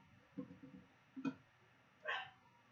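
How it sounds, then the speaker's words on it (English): A medium-sized dog next door yapping: a few short yips, then a sharper bark and a higher whimpering yelp, heard at moderate distance against a quiet background. "She's a medium-sized dog. That's what she bloody does, that yapping."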